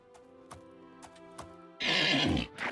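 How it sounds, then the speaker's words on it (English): A horse in the video game Oblivion Remastered gives a loud, close whinny that rises and shakes for about a second, following a few soft thuds and against steady background music. "There's my horse."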